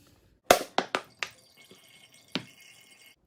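Water draining out from beneath a layer of oil, heard as a handful of sharp, close drips, four in quick succession, then a fainter one and a final clear drop, in a quiet room without speech.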